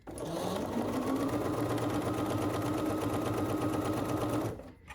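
A domestic sewing machine stitches quilt block pieces in one steady, fast, continuous run close by, with a rapid even rhythm that stops abruptly near the end.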